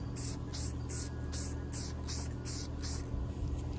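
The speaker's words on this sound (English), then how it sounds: "So I'm just gonna spray it from here." An aerosol can sprays paint outdoors onto a custom Monster Jam truck model in a series of short hissing bursts, about nine in a loose rhythm, close and fairly quiet over faint background hum.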